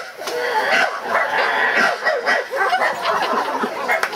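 A person imitates a little dog, yapping in a quick series of short barks, close and loud, with some laughter from others around.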